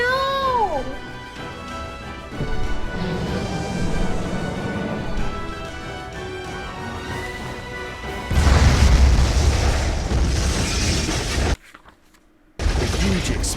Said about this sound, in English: The huge explosion from the impact drowned out everything else in the attic.